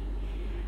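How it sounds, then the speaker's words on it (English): A steady low air conditioner hum drones continuously with a broad rumbling texture, close by and unchanging, with no voices. "sorry for the noise. It's the air conditioner."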